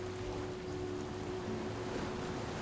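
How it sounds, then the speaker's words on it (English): Wind and ocean waves lapping below a lake in the Faroe Islands make a steady, broadband wash with a faint low hum underneath, continuous and even throughout. "with only the sound of wind and waves lapping from the ocean below"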